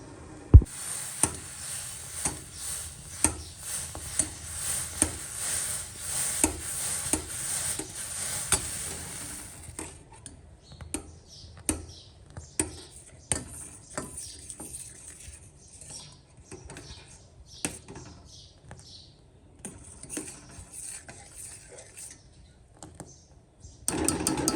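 Tea with milk being made in a pan in a village kitchen, a steady sizzle and bubbling for the first few seconds, then quieter bubbling with scattered clinks and stirring taps.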